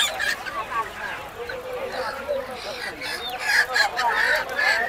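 Roosters at a busy poultry market selling native chickens and ducks, their clucks and calls rising over a steady crowd murmur, loud and close, with people talking throughout.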